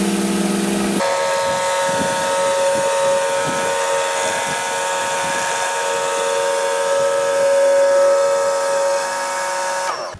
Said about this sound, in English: take this surface cleaner off and do the regular pressure washer one